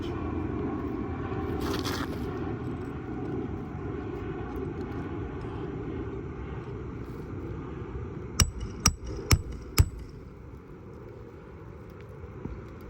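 Four sharp hammer blows in quick succession nail down asphalt roof shingles, ringing out over a steady low engine drone, with one fainter knock shortly after.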